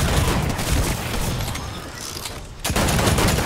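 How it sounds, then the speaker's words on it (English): Rapid bursts of video game gunfire rattle loudly and close, a dense fusillade of shots that breaks off abruptly and then resumes. "Why is someone shooting me?"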